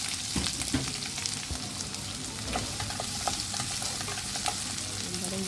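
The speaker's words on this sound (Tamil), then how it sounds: "வெங்காயத்தை போட்டு இதோட போட்டு தாளிக்க போகிறேன்." Onions frying in oil in a pan for a Jaffna-style dried anchovy curry, a steady close sizzle with occasional stirring clatter throughout.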